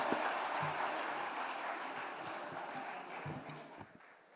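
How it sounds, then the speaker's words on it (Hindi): Steady applause from a crowd at an award ceremony, clapping continuously and fairly faint, gradually tapering off toward the end. "जोरदार तालियों से स्वागत कीजिए"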